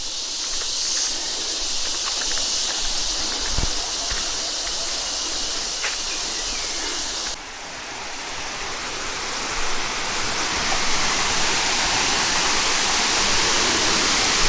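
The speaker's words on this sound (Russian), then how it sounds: "Официально это самый большой водопад, который я видел, высокий." A large, tall waterfall in the Philippines roars continuously, a dense, loud hiss of crashing water with no voices, steady throughout apart from a brief dip midway.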